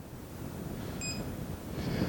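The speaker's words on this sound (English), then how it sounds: "It was beeping." A Bluetti AC200P solar generator, the updated 2021 model, faulting under load gives a single short, high electronic beep over steady background noise.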